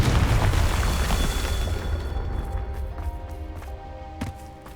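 A Confringo blasting spell goes off in Hogwarts Legacy, a loud booming burst that rumbles at the start and trails off into a fading, echoing tail with a smaller pop near the end, set over a musical game backdrop.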